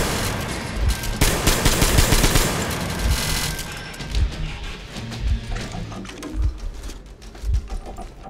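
Kalashnikov rifle gunfire in the Metro Exodus video game, a dense spray of rapid shots at first, easing into spaced heavy thuds and bursts over a steady game backdrop.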